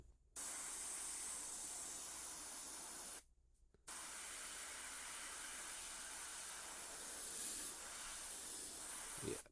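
A Gaahleri airbrush sprays transparent black paint in two steady hissing bursts, a short one then a longer one after a brief pause, close and even in level.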